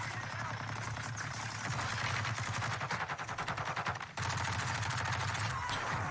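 Rapid gunfire in the video game Warzone 2, with dense automatic bursts rattling continuously over a constant in-game background and a brief drop just past the midpoint.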